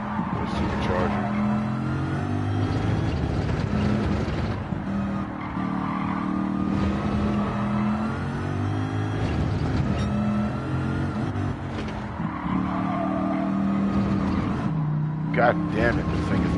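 Supercharged car engine under way on a drive, a loud continuous drone with shifting pitch and rising revs, and someone talks over it the whole time.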